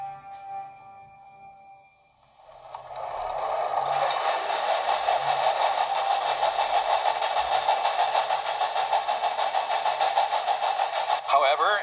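A train runs along the line in Railway Empire, a steady loud rumble that swells in after a brief quiet stretch and holds with a faint rhythmic chugging texture, near and continuous.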